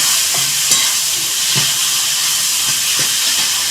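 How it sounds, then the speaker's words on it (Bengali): A loud, steady sizzle and hiss of potatoes and vegetables frying in oil with mutton fills the scene, with faint scraping stirs underneath and no one talking. "এবার আমি এই আলুটা এই সবজিটা এই মাংসের মধ্যে দিয়ে দেবো।"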